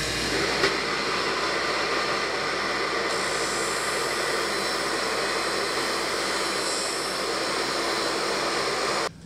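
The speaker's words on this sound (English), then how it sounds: "The disc on this sander turns in the opposite direction of a lot of sanders." A disc belt sander runs with a dust collection modification attached, giving a loud, steady whirring roar of motor and spinning abrasive disc with airflow rush, continuous for the whole stretch with no talk.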